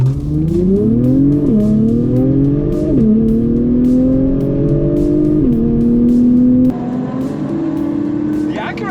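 Loud engines of a 2022 Acura TLX Type S, a Camaro LT1 10-speed and a Genesis G70 3.3T rev and climb through gears in a race, pitch rising and dropping with each shift as they accelerate hard.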